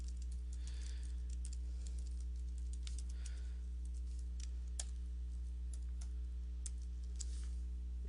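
Soft, faint clicks of typing on a computer keyboard while entering a web address, a few sharper keystrokes standing out over a steady low electrical hum.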